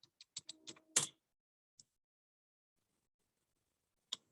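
Computer keystrokes tap out in a quick burst of close, crisp clicks, then fall quiet apart from two isolated presses later on.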